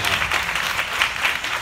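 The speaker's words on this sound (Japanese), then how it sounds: "大きな拍手をお願いいたします" Audience applause for a half time show at an improv comedy event, a loud, dense, continuous wash of clapping from a crowd with no talk over it.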